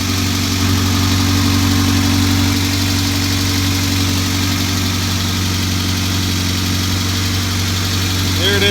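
Honda K-series engine idling steadily right after a valve adjustment, with a constant low hum and a faint light ticking layered over it, near and continuous.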